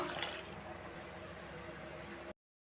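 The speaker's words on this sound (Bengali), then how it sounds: "এর মধ্যে গরম জল দিয়ে দেবো।" Hot water poured into a pressure cooker holding browned mutton curry with potatoes, a continuous close splashing gush that runs steadily for about two seconds and then stops abruptly.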